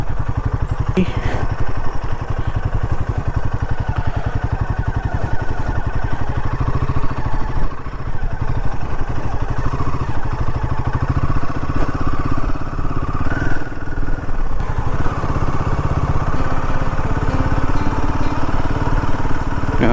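A motorcycle engine runs loud and close throughout, rumbling and rattling continuously as the bike climbs an unpaved hill track toward a hilltop Shiva temple in Nellore district.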